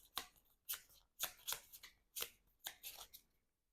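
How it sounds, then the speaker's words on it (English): A deck of game cards for a solo Marvel Champions-style card game is riffle-shuffled and bridged close up, giving a series of crisp, rapid flutters and snaps in irregular bursts, with no speech. "Let's shuffle these cards up."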